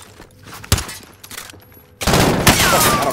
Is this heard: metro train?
no